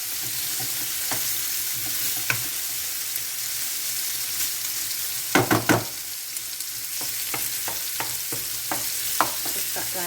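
Pork stir-fries in a pan with vegetables, a steady close sizzle broken by scraping and clattering from a utensil pushing and breaking up the meat, with no speech.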